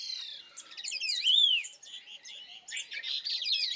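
Several birds call and chirp during the courting season in a Himalayan hill village, bright overlapping tweets and rising whistles, fairly close and continuous with no talk.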